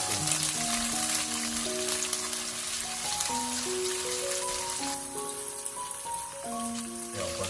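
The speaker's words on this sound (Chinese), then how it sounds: "将五花肉炒至表面微微发黄，再把葱蒜加进来，继续炒香" Pork belly stir-frying in a wok with scallions and garlic gives a steady, hissing sizzle with faint scraping, heard throughout under louder melodic background music.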